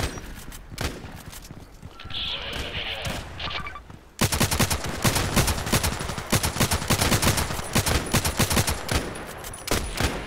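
Rapid automatic gunfire in the online first-person shooter Contract Wars: a quieter stretch of scattered shots gives way to a loud, sustained burst of rattling fire that continues to the end.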